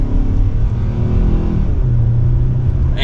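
A 2024 Hyundai Sonata SEL with front-wheel drive accelerates hard in sport mode in second gear, its engine note loud and close, rising in a steady continuous roar with no one speaking.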